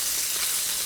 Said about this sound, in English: It's sizzling away now